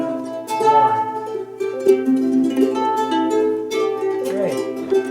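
Ukulele fingerpicking across the strings in order 4, 3, 2, 1, a steady sequence of clear plucked notes ringing close and alone.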